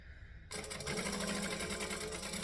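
A sewing machine stitches a circle bag: after a brief quiet start, the motor suddenly starts and runs in a fast, steady, close-up whir of stitching.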